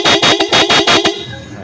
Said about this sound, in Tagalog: So nakay boss na kung anong gusto niyang klaseng busina